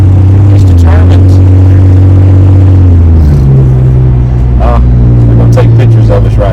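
A 1967 Ford Mustang's engine hums steadily from inside the car on a winding mountain road, a loud low drone that drops in pitch midway as the gear or speed changes, with wind and road noise around it.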